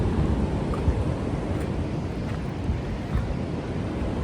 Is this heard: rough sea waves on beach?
yes